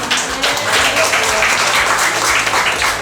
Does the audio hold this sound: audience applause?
yes